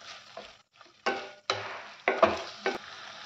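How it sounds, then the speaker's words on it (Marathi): Chilli paneer being stirred in a pan over low heat, with a few distinct scraping strokes and soft sizzling between short pauses, close and fairly quiet. "आता हे थोडंसं आता मंद गॅसवरती शिजेस्तवर हलवायचं आहे ते."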